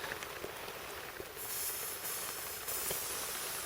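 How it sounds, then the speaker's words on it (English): Seasoned meat slices with salt, pepper, hot sauce and olive oil sizzling on a hot stone outdoors, a steady close hiss that swells louder partway through and holds. "We got sizzling."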